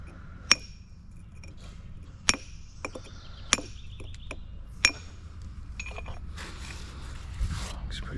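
Chisel striking the edge of a split concrete block, four sharp metallic clinks spaced a second or more apart, close and distinct over a low steady background hum.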